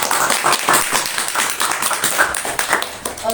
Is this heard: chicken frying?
no